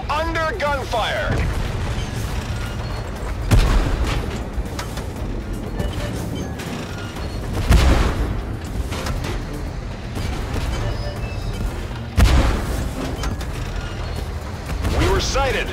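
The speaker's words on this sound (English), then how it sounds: "are under gunfire!" Loud booming shots from the tank game Tank Force ring out at intervals over a constant rumbling battle background, with several heavier blasts standing out.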